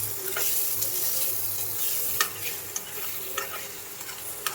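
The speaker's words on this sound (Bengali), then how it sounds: "অল্প সামান্য একটু লবণ দিয়ে ডিমটাকে একটু ভালো করে ভেজে নেব" An egg fries with onion in a pan on an induction hob, giving a soft, steady sizzle broken by sharp clicks and scrapes of a spatula stirring, fairly quiet with no voices.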